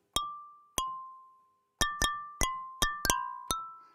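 Clear, glassy physically modeled synthesized tones, not sampled, ring out one at a time, then in a quicker cluster, each a bright struck ping that decays quickly into silence.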